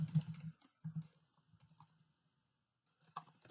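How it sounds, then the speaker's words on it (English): Keystrokes on a computer keyboard as a message is typed, soft close clicks in short bursts with a brief pause before a final few taps. "I can type out my message"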